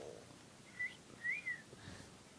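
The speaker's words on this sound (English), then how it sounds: "Did you just whistle at me?" A person whistles a few short rising-and-falling notes, faint and close, against a quiet indoor background with no talking.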